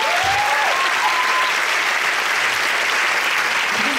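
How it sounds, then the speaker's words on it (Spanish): A large awards-show crowd at the Premios Latino gala breaks into loud, sustained applause, a dense and even wash of clapping with a few faint whistles and voices above it. "¡Fuerte aplauso!"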